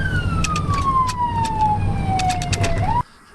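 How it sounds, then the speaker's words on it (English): Ambulance siren wailing in a single long falling sweep as the vehicle drives, loud and close, cutting off abruptly near the end. "Sirens on, gas pedal down."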